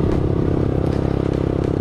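A Honda Megapro motorcycle with an aftermarket exhaust and upgraded CDI and coil revs above 4000 rpm, giving a loud, close, evenly pulsing engine rumble with no talking.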